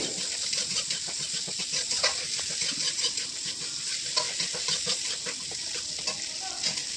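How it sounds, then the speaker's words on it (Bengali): Potatoes with chili paste and poppy seed paste being stirred in a pan, a steady hiss of frying under repeated scraping strokes, close and moderately loud with no talking. "তারপরে যাতে একটু নাড়ার পরে দেব পোস্ত বাটা, তারপরে আবার এটাকে নাড়াচাড়া করব"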